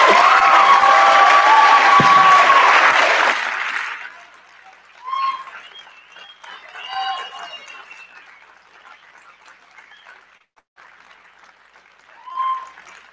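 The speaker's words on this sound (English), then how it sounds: "So would you give Anastasia a big round of applause?" Loud audience applause at the close of a lecture in a lecture series, a dense burst of clapping lasting about three seconds before fading into a quiet room with scattered soft murmurs and movement.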